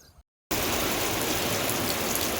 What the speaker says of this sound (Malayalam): നല്ല മഴ പെയ്ത് വരാം